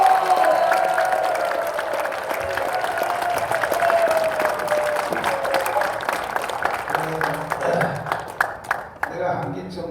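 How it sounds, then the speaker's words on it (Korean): A crowd at a church gathering in Jangchung Arena, Seoul, claps steadily in a broad wash of applause, fading into scattered individual claps by the end. "힘내시라고 박수로 한번 기도하겠습니다"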